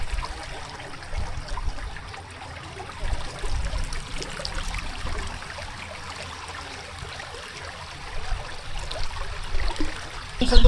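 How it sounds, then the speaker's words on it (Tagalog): Strong water current rushing steadily along a riverside fishing spot, a dense continuous wash that swells slightly near the end, with no talk. "Ayan po at malakas na po yung agos ng tubig."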